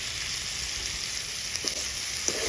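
Mutton curry masala with rock salt sautéing in a pan, a dense continuous sizzle with a few soft stirring scrapes, close and steady.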